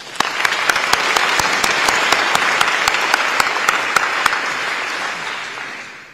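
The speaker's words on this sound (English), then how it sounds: "Let's give a round of applause for the unwavering support of staff in making this" A banquet audience claps steadily for about five seconds, with dense, loud applause and a few sharper individual claps standing out above it before the sound tapers off at the end.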